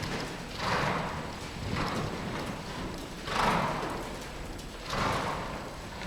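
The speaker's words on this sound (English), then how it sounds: "This horse has a hard time cantering." A horse named Della moves around during confidence training, with soft, muffled hoofbeats that rise and fall in about three surging pulses over a quiet background and no voices.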